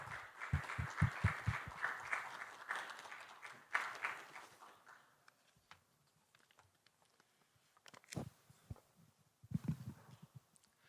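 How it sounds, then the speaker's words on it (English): Audience applause greets a speaker walking onto the stage at a green growth summit in Seoul, a burst of clapping that fades within a few seconds, followed by scattered faint thuds and shuffles in a large hall. "please welcome Mr. Pan onto the stage with a nice warm round of applause"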